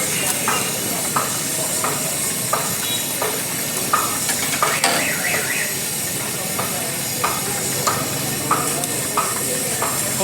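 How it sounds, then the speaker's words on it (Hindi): Fish sizzles steadily while frying in ghee at a busy Delhi food stall, a constant close hiss with periodic stirring clinks, and someone talks over it. "फ़िश फ्राई हो रही है गाइस यहाँ पे।"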